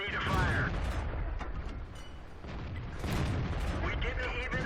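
The AMX 50 100 tank's main gun firing in World of Tanks on the Murovanka map: loud heavy booms with rumbling tails over continuous engine and battle noise, while someone talks.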